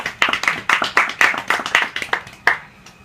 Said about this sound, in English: Only 3 claps.